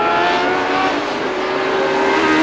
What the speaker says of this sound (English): Regazzoni has kept this Ferrari